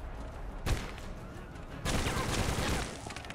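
Bursts of gunfire from a Secret Service video game, several loud, sharp volleys in rapid succession over a noisy, busy background.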